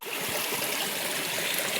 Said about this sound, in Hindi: यहाँ पे बरसात का जो पानी है पूरा बह रहा है